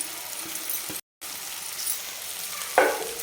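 Sautéed cowpea pods hit hot oil and fry with a steady, close crackling sizzle, cut by a brief dropout, then a louder splash of sizzle near the end.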